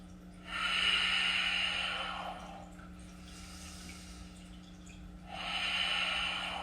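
Loud yoga breaths, two long forceful airy inhale and exhale rushes with a quieter breath between, close up over a faint steady hum.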